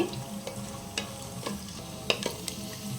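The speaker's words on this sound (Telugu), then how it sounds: "చూడండి ఆయిల్ హీట్ అయింది నేను కొద్ది జీడిపప్పు వేసి వేయించుకుంటున్నాను" Cashew nuts fry in hot oil, giving a quiet steady sizzle with a few sharp clicks and pops of stirring scattered across the few seconds.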